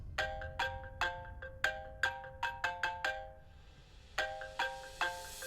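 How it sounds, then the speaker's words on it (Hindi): A phone ringtone plays alone, a bright repeating electronic melody of quick plinking notes with a short pause before the tune starts again. "फोन उठा लो बेटा कि देखो किसका है।"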